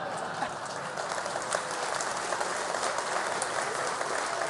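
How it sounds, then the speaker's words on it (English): A studio audience at a televised Tory leadership debate claps in sustained, even applause with a dense patter of hands and faint voices mixed in. "I think you're always going to get a clap for that"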